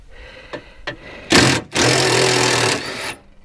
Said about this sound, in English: This is a 1/2 inch impact.